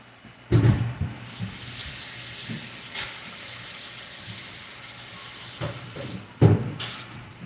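Water runs from a kitchen tap while something is scrubbed and rinsed by hand, a steady hiss of flow broken by a few louder splashes and clunks near the start and end.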